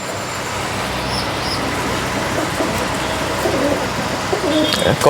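Painted Madras pigeons coo in a loft at dusk, soft low murmuring calls under steady background traffic and rail noise, with someone talking nearby.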